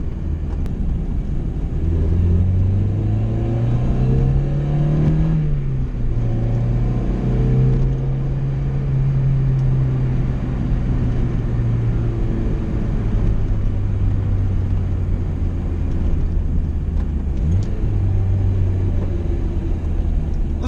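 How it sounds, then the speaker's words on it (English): A stock Mazda Miata drives at a steady loud engine drone from the cabin, with rising and falling pitch as it revs and shifts down through the gears, with no talk over it. "It was actually one of the best downshifts I've done in a while."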